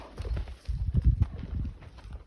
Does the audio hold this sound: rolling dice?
no